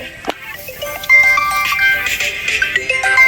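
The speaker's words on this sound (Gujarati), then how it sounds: "ફોન આવ્યો છે" An incoming-call phone ringtone plays a loud, bright melodic tune for a few seconds, starting after a brief knock and ringing out clearly.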